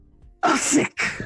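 A person sneezes sharply and loudly close by, a forceful burst with a quick second gasp after it, followed by a brief spoken exclamation.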